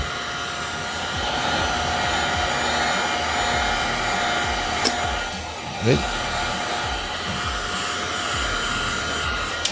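A heat gun warms the edges of a Honda Type R tail light, blowing with a loud, steady, close-up whoosh that runs unbroken throughout, with a couple of faint clicks along the way.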